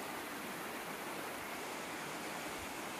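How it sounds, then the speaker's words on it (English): West Branch Creek, a small stream, flows beneath a covered bridge near PA 42 in Columbia County. It makes a steady, close, even rush of water with no break. "Little stream right there underneath us."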